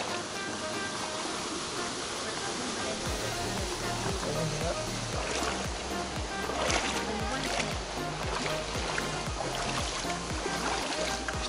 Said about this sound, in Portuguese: Já vimos a cascata do Pé do Inferno.